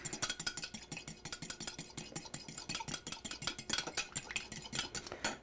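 Milk and egg being whisked together in a bowl for an egg wash, a fast, steady run of clinking and scraping strokes of a utensil against the bowl, close and continuous with no talking.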